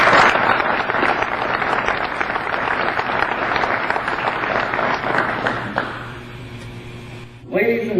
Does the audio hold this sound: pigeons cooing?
no